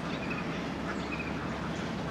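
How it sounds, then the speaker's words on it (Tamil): Ducks quack along a canal shore beside a houseboat in Alappuzha, Kerala, scattered faint calls over a steady boat engine hum, with a person talking over them. "நிறையா இருக்குது வாத்து பாருங்க, எவ்வளோ வாத்துன்னு எல்லாம் கரையில்."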